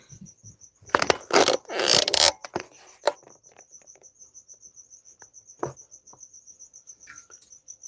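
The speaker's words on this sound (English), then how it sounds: "Crickets are so freaking happy with how warm it is." On a warm night a cricket chirps in a steady, fast pulse throughout, while louder handling noises, scrapes and clatters break in nearby.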